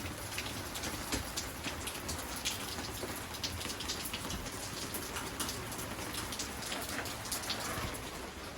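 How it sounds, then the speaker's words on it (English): Steady rain falls outdoors beside a Forest River No Boundaries 19.5 camper, a dense, continuous patter of drops on surfaces that holds even and fairly loud throughout, with no voices. "Like I said, it's raining here."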